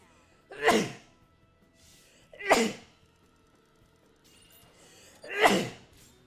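Three separate sneezes, spaced a couple of seconds apart, each a sharp close burst with quiet in between.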